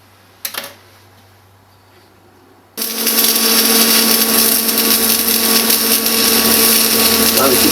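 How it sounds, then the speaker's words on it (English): Stick welding with a 75-amp rod on an R-Tech AC/DC 200 amp inverter welder, running a bead along 8mm plate: near-silence, then the arc strikes and holds a loud, steady, crackling hiss to the end. "I'm going to run a weld bead along there, probably 3 beads."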